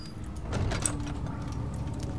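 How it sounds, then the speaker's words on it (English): A wooden door in Amnesia: The Dark Descent swings shut, giving a drawn-out creak and a soft thud against a low, steady ambient hum, with no talking. "Kind of wish the doors wouldn't make so much noise when we close them."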